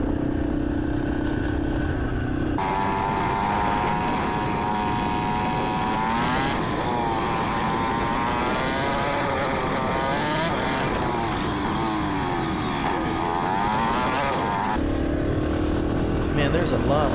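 A Yamaha XT-250 dirt bike rides along a bumpy dirt road at about 30 mph. The engine drones loudly and continuously close by, its pitch rising and falling with the throttle, with wind noise throughout and a rider talking over it.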